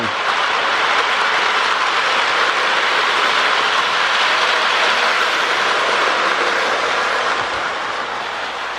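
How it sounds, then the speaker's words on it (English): A steady, continuous rumbling whir of a Marx toy diesel train pulling 20 cars around its track, close and loud, with no pauses or voices. "This train is more than half the distance around this track."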